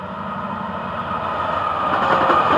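Low rumbling of an FEC freight train rolling past, a steady mechanical drone growing slightly louder over a few seconds.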